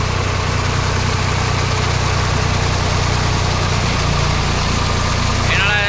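Swaraj 744 FE old-model tractor with a rotavator, its diesel engine running at a steady, continuous idle-like drone with vibration, loud and close throughout.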